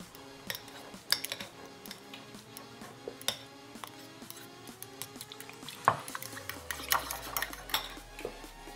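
Two eggs and a teaspoon of miso paste being whisked in a bowl, with brisk, irregular metallic clinks and taps against the bowl's sides that are close and fairly quiet, and no speech.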